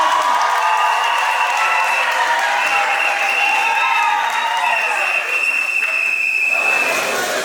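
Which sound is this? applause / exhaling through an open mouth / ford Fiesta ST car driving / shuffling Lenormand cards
applause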